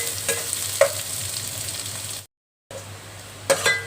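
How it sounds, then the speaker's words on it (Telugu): Sliced onions and green chilies fry in a pan with a steady moderate sizzle, broken by occasional clinks of a utensil against the pan and a short silent gap midway; no talking. "నెక్స్ట్ ఆనియన్స్, పచ్చిమిర్చి పీలికలు వేసేసుకున్నాము. ఇది బ్రౌన్ కలర్ వచ్చే వరకు వేయించుకోవాలి."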